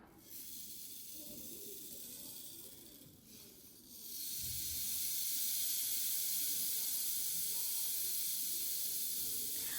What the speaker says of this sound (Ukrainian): Перший це палиця дощу,